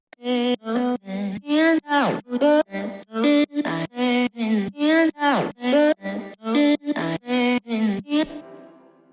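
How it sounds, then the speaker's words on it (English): Rapid, rhythmic chopped vocal syllables in stacked pitches stutter in a steady pattern, with occasional pitch-swooping slides, loud and close. "So altogether the vocal chops sound like this."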